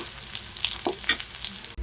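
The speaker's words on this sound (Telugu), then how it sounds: "సౌండ్లోనే తెలుస్తాయి అనమాట ఇవి బాగా క్రిస్పీగా ఫ్రై అయినాయి అని." Raw banana pieces fry crisp in hot oil, a close crackling sizzle with scattered pops and bursts, interrupted by a brief clatter near the end.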